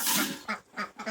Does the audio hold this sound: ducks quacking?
yes